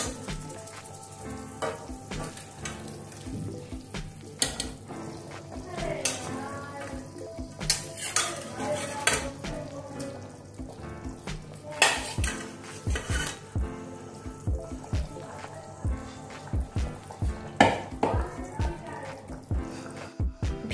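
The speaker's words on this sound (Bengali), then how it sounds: "এখন আমি এর মধ্যে ভেজে রাখা মাছ দিয়ে দেব।" Fried singi catfish pieces added to a pot of potato and green-chili curry, with a light sizzle under repeated clattering knocks and scrapes of a utensil against the pot, close and irregular.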